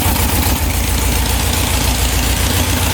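A 1967 Volkswagen dune buggy engine idles close up, a loud, steady, even rumble with nothing else over it.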